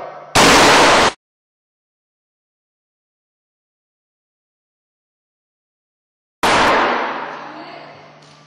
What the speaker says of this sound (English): you see how fast that airbag came out?